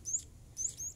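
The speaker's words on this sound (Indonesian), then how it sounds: "kita udah masih berhasil ngasih makan anak burung kadasi" Kadasi bird chicks chirp during hand feeding, giving three thin, high-pitched squeaky calls in quick bursts, close by and fairly loud over a low background hum.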